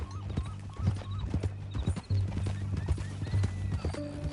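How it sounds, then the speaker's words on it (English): Horse from the Red Dead Redemption 2 video game, hooves clip-clopping in a steady gait with a few whinnies and neighs, close and clear over low in-game ambience. "That a new horse?"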